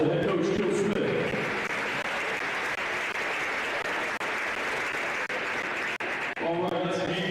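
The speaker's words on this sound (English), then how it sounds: "Let's give a big round of applause to head coach Joe Smith." Steady crowd applause fills a high school girls basketball gym as the head coach is introduced at a Speedway vs Covenant Christian game, loud and sustained throughout, with an announcer's voice returning near the end.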